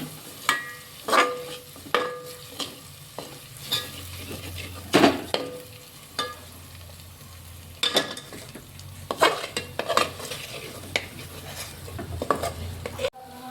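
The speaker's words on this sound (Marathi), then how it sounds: "आपण त्याच्यात पावडर मसाले ॲड करणार आहोत ते पण दोन मिनटं चांगले तेलामध्ये फ्राय होऊ द्यायचे" Powdered spices frying in oil over roasted masala for spicy mutton rassa, with a spoon repeatedly scraping and tapping the pan over a low continuous sizzle, close and unaccompanied by speech.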